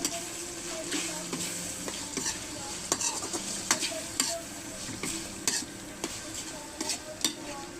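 Pork cubes frying in a pan and stirred continuously, a dense sizzle with repeated scraping and clinking of a spatula against metal, close and steady throughout.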